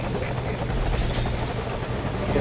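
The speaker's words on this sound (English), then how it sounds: "Alright, there's your helicopter." Helicopter in the Metal Gear Solid V video game, a steady loud rotor thrum with engine whine holding constant throughout, no voices over it.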